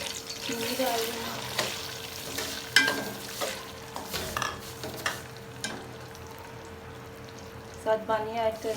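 Sugar goes into hot oil with cardamom, coconut, raisins and almonds for sweet zarda rice and is stirred in a pan, giving a soft steady sizzle and repeated scraping stir strokes, with a voice talking faintly underneath.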